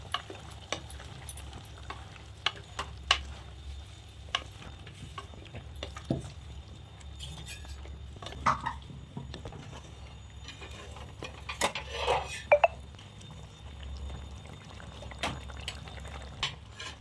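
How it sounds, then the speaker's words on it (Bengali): A spoon stirs Bengali vegetarian vegetable curry in a pan, giving repeated scraping and clacking strokes over a low continuous sizzle, close and fairly clear, with no talk. "ভালো করে নেড়ে চেড়ে নিয়েছি, ভালো করে ঘেটেও দিয়েছি।"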